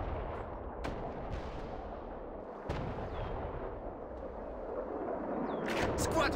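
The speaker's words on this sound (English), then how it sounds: "Prepare your cannons!" Cannon artillery fire in the WWA RTS battle game: a few sharp booms punch through a dense, continuous roar of battlefield gunfire and noise, fairly loud and steady throughout, with no speech.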